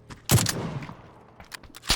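Gunfire in a combat zone cracks out in a few sharp, loud bursts: a close shot, a quick follow-up, scattered quieter reports, then another close crack.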